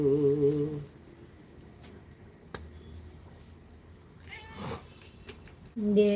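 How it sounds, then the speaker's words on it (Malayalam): A hungry cat gives a short meow midway, moderately near, between stretches of quiet room noise, with a voice singing or speaking briefly at the start and end. "ആരും കാണാനില്ല പൂച്ചക്ക് വിശക്കുണ്ടെന്നുണ്ടല്ലേ"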